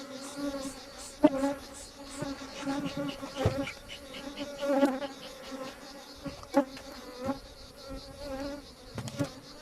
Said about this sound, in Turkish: Arılar da iyice agresif bunlar.